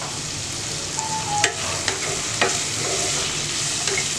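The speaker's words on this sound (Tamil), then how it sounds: "இது மீடியம் ஃப்ளேமில் வச்சு நல்லா குக் பண்ணிக்கோங்க, ரொம்ப வதங்க வேண்டாம்." Ingredients for mutton white kurma sauté on a medium flame, a close, steady sizzle with a few sharp spoon-against-pan clinks as they are stirred, no voices.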